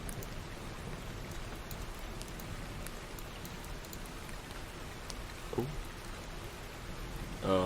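Steady, soft rainfall patters continuously on surfaces, a constant hiss with a faint bump near the end.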